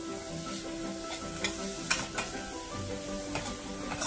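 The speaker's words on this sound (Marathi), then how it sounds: "आता गाजर टाकतोय आपण इथे" Carrots sizzle steadily in a pan while a utensil stirs them, scraping clicks and taps breaking through the continuous frying hiss, close and moderately loud.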